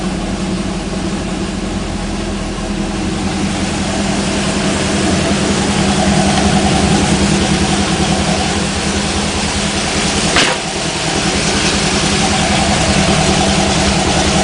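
A Corvette engine with low-restriction exhaust idles steadily nearby with a deep, loping rumble, holding an even, throaty beat throughout.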